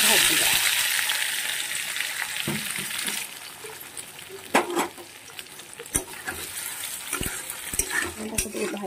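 Eggs fry in hot oil for an egg paneer curry, giving a loud, steady sizzle that fades down to softer crackling, broken by scraping and clinking stirring sounds near the pan.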